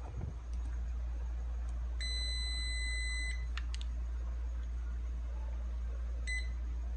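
A digital multimeter on continuity test gives a short steady electronic beep lasting over a second, then a brief second beep, over a low steady hum, with no talking.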